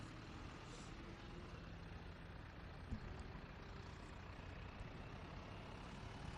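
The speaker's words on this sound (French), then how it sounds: "tracteur Lamborghini, type Chrono 65 DT, puissance de 62 chevaux pour un poids de 3 tonnes 60" A Lamborghini Chrono 65 DT tractor of 62 horsepower and 3.6 tonnes, fitted with a vibrating cultivator, rumbles at an agricultural fair with a steady, faint, distant engine drone and no clear pass-by swell.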